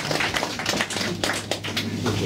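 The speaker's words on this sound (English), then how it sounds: "Let's have a round of applause for Eddie." Audience clapping for a tour guide at the Falkirk Wheel boat lift in Scotland, a steady patter of many hands close by over a low background hum.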